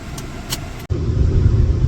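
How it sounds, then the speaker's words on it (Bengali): A car travels along a bumpy road, its engine and road noise a steady close rumble with thumps, broken by a sudden sharp jolt partway through. "গাড়ি কিন্তু ঝাঁকি হচ্ছে তো"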